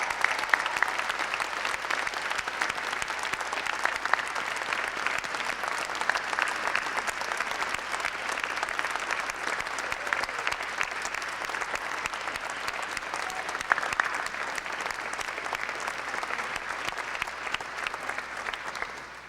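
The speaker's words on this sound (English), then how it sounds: "Seniors, please stand and give them a hearty round of applause." Seniors stand and give a hearty round of applause to families and friends at a Tufts baccalaureate service. A large hall is filled with dense, sustained clapping that stays loud and even throughout, with no voices over it.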